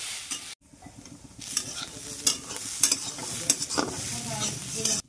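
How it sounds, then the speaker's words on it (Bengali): Washed red lentils (masoor dal) are stirred and fried in a pan, giving a close sizzle broken by repeated scraping strokes of a spatula in an uneven rhythm, with no speech. "নেড়ে চেড়ে ডালটাকে মিনিট 4 সময় নিয়ে ভেজে নেব"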